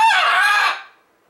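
A pet bird at a window lets out one loud, close, rooster-like crowing call that lasts under a second and then cuts off into silence.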